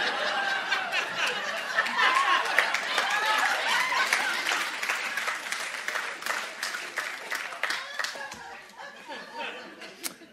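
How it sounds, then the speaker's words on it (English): Audience applause at a comedy show: a continuous wash of many hands clapping, with scattered chuckles and chatter mixed in, slowly tapering toward the end. "I think they were clapping the bit where you were getting off."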